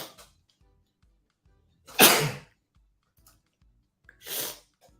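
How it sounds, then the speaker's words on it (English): Two loud sneezes from a man indoors, spaced about two seconds apart, with faint breathing between them and no talk. "Hold on, I gotta sneeze."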